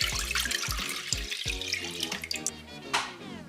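Orange juice poured from a container, a steady liquid splashing stream with a bright burst near the end, heard close and fairly quiet with no talking.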